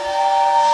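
A steam train whistle on a virtual train ride at the St. Louis Aquarium at Union Station, one loud sustained shrill tone with a hissy edge, heard alone.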